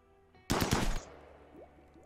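Burst of rapid gunfire from a video game, a loud dense volley of about half a second that cuts off sharply, followed by quieter game ambience.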